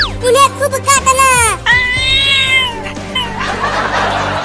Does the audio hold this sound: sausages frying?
no